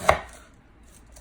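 A kitchen knife chops cabbage into square pieces on a board, one sharp close cut followed by quiet, with no talking.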